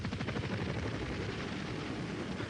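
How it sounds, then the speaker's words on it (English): An American helicopter's rotor chops in a steady, rapid rhythmic thrum, fairly faint and distant but continuous, with a rough droning engine bed beneath. "An American helicopter approaches on its way to Quang Tri."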